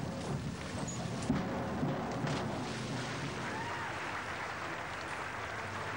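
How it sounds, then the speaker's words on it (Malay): Spectators at a SEA Games diving event cheer and clap after a forward somersault dive, a broad steady crowd roar in a large venue with scattered claps, moderately distant. "Dan sorakan dari para penonton"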